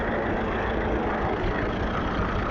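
A standard Fordson tractor engine runs at a steam rally, a steady low, rumbling drone with even texture, loud and close, without knocks or bangs, and no talking over it.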